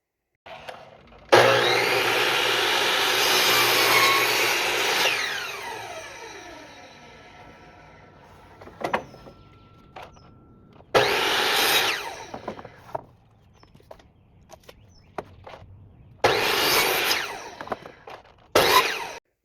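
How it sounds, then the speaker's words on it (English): A power saw cuts through wood for a squirrel house, a long loud whining cut that winds down, followed by two shorter bursts of cutting with clatter between. "We're going to start off with step 1, cutting the wood"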